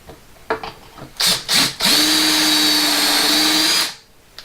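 A power drill bores one more hole through wood, starting with a few short bursts and then running steadily for about two seconds. The tone is loud and high-pitched and close by, and it winds down at the end.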